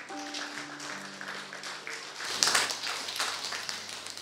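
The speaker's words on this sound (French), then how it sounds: "applaudir si vous voulez" A congregation claps during a church service, the applause rising after sustained held tones and continuing as a dense, moderately loud patter to the end.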